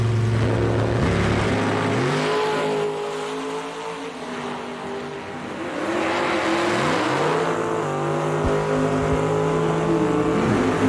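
A Camaro drag car at a bracket race revs loudly nearby, its engine note rising and falling through several surges, with another engine audible underneath as it builds toward launch.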